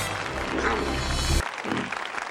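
A crowd claps and cheers in Batman Returns, broad applause under a low rumbling score that cuts off abruptly midway, leaving thinner scattered clapping and faint voices.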